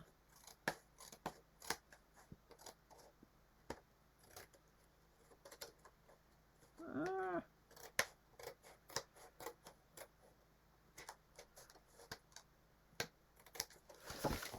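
Scissors trimming a layer of a paper card craft, making a run of sharp, quiet snips at an irregular pace, with a brief rustle of paper partway through and no speech.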